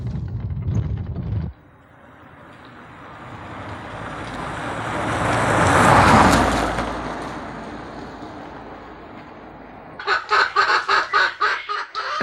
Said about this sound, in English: specially bred broody hens act as natural incubators. The eggs are carefully transferred to the nesting box.